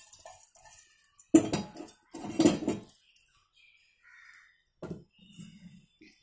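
Uncooked rice tipped into a small cooker pot gives two short, loud, grainy rattling pours with light metallic clinks, followed by quieter kitchen clatter.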